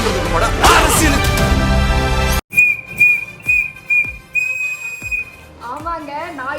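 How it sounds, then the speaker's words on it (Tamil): A whistle blown at a Trichy East street roadshow for a political rally: loud crowd noise first, then a run of shrill, close whistle blasts, several short and one held, with voices around. "நான் இப்போ விசில் மூலியமா தான் விசில் அடிச்சிருக்கேன்"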